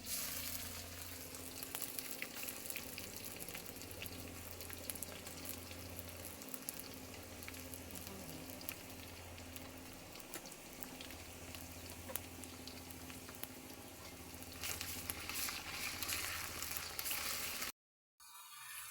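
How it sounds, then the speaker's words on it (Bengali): Onion and ginger frying in a pan for muri ghonto, a continuous low crackling sizzle with light patter over about eighteen seconds, quiet and close, ending in a brief dropout. "আম্মু মুড়ি ঘন্ট করার জন্য এখানে যে পেঁয়াজ ভাজা ভাজা করে নিতেছে"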